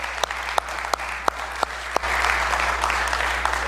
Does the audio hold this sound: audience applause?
yes